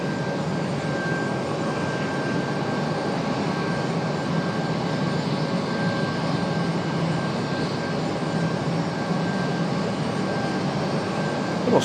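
A United airliner taxiing at Raleigh-Durham airport, its engines giving a steady, broad roar with a faint whine on top that holds evenly throughout, with no voices over it.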